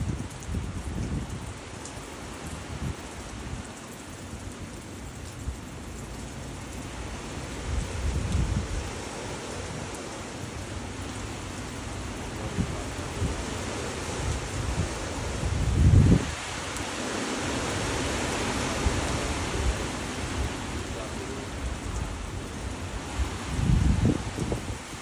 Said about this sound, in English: these 64 mile an hour winds are taking trees down already, and it looks like the rain is just getting here